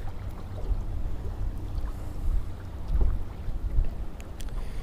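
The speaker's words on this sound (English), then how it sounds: "Yeah, the only problem today is going to be that wind." Wind gusting across open water around a small fishing boat on a fall day out for pike and bass, a steady low rumble with buffeting surges against the microphone and no talk.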